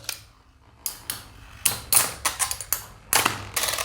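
Beyblade Burst spinning tops, Dark Cancer and Cetus, clashing in a plastic stadium: a run of sharp, close clicking impacts and scraping hits in irregular bursts, alone with no talk.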